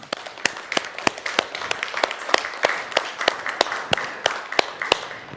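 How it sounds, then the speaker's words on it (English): An audience applauds at the close of a mindfulness and breathwork session: a light, scattered round of clapping from a small group, with distinct individual claps heard close. "give yourselves a round of applause."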